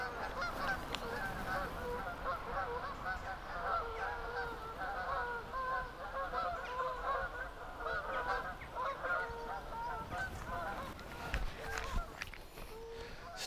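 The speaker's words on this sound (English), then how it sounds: "Noisy geese." Geese honk noisily and continuously at Golitha Falls in autumn, a dense overlapping chorus of calls over a steady rush of falling water, with a faint voice briefly in the background.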